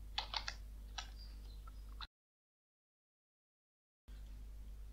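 Quick keystrokes on a computer keyboard while entering commands in an Ubuntu terminal, a short close burst of tapping followed by silence and then faint room tone.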